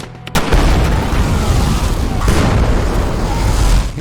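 A napalm explosion in a sniper movie: a sudden heavy blast followed by a long, dense, sustained roar and rumble that fills the whole stretch, loud and close.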